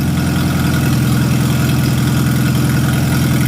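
A Farmall tractor engine fitted with a new carburetor, magneto, plugs and wires idles steadily up close, a loud, continuous low rumble carrying a faint irregular skip from slightly off timing, with no talk.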